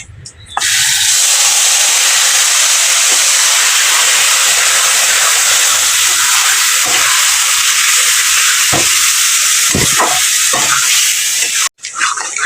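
Marinated chicken dropped into a hot pan sets off an abrupt, loud, continuous hissing sizzle with steam that holds strong for many seconds. A few faint knocks break in near the end.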